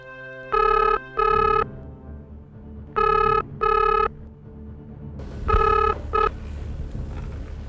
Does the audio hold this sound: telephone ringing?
yes